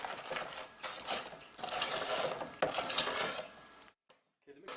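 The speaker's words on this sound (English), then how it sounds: "And stir that in." A spoon stirring almond extract into Bakewell tart filling in a bowl, close rhythmic scraping and clinking against the dish, moderately loud, stopping abruptly into near silence with one brief tap after.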